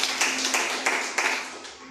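A church congregation claps steadily together for Jesus, a dense, reverberant wash of many hands with regular louder accented beats.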